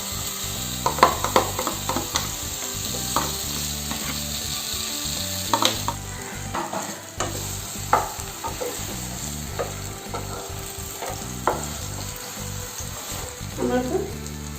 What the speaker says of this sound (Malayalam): പഴം ഈ നെയ്യിലേക്ക് ചേർത്ത് കൊടുക്കാം